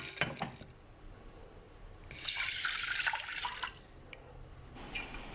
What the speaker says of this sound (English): First, wash the black lentils.